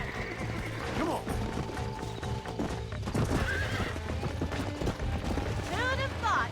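Horse hooves clip-clop steadily in the Red Dead Redemption game during a bronco-busting ride, with loud whinnies and neighs breaking in over a music bed and some talk.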